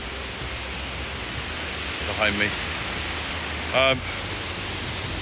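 Steady broadband rush of a waterfall along the West Highland Way in the Scottish Highlands, heard near a high bridge, a constant close roar filling the whole clip, with a voice briefly speaking over it.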